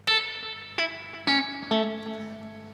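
Electric guitar through the built-in reverb of a Replex tube echo, four plucked notes or chords each ringing out with a thin, splashy reverb tail, played alone with no talking.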